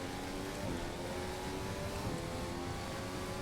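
A Ferrari F14 T Formula One car from the Formula Corsa mod in the racing game Assetto Corsa drones at a steady pitch, quiet and continuous throughout, with no change in revs.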